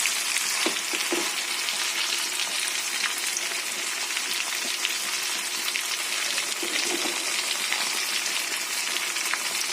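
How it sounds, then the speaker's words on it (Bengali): Fish fries in a pan with a steady, dense crackling sizzle that stays close and even throughout, like light rain, with no talking. "মাছটাও এইভাবেই করে ভেজে নেব"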